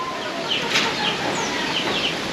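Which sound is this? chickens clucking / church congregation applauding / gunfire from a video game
chickens clucking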